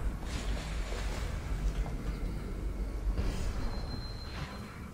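Rolling water and wind wash around a boat in Dishonored in a steady, noisy surge, with a faint tone drifting in briefly near the end.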